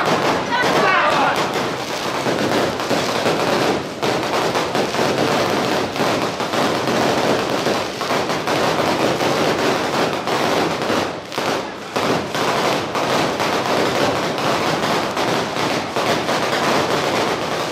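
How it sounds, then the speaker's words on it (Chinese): Firecrackers explode in a dense, continuous crackling barrage at a Lantern Festival temple ceremony at Dajia Jenn Lann Temple, loud and close for the whole stretch with sharp bursts throughout. "鞭炮。"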